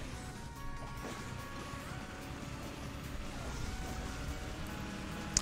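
A sports car in the game Hill Climb Racing 2 drones on with a steady engine tone under a dense, noisy rumble, ending in a sharp thump.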